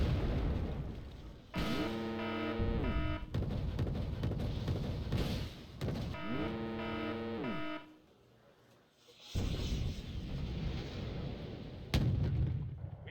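Tank cannon fire in a Soviet-versus-French video game battle, with loud, booming shots repeating over a dense, rumbling backdrop of game effects and whining tones, with a brief lull before the firing resumes.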